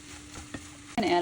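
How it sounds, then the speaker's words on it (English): Cooked rice stirred into a pan of sizzling vegetables and eggs, a short scrape and clatter of the utensil ending in a brighter burst of frying, close and brief. "You add your rice to your pan of vegetables and eggs,"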